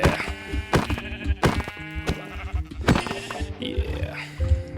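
Sheep in Minecraft give several short, nasal bleats at uneven intervals, close and clear, mixed with other game sound effects.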